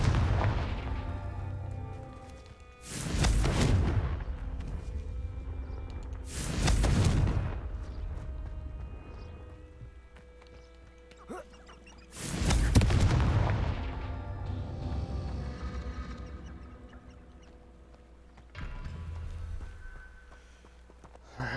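Fire-spell explosions from the Confringo curse in the video game Hogwarts Legacy: three loud, booming blasts spaced a few seconds apart, each with a rumbling tail, followed by a softer fourth burst, with no talking.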